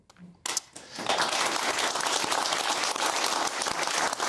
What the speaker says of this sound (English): Sorry that they used up all their applause on me